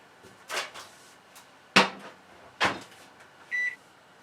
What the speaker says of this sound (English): And stick it in our microwave to heat it up.